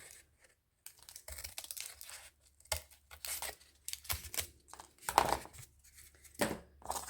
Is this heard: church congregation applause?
no